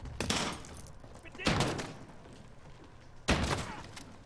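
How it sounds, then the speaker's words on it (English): A shotgun fires three times in Call of Duty Modern Warfare, in the rat tunnels: sharp, loud reports spaced more than a second apart, each trailing off into echoing reverberation. "It's a shotgun."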